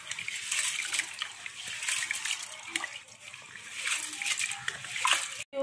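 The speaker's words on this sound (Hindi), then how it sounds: "देख सकते हो कि हमने चावल और उड़द दाल एक साथ डाल दिया है और इसे हम अच्छी तरह से धो रहे हैं।" Rice and urad dal are swished and rinsed by hand in a bowl of water, giving continuous close splashing and sloshing that swells and eases over several seconds, with no talking.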